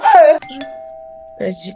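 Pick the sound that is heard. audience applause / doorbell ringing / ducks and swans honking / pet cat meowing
doorbell ringing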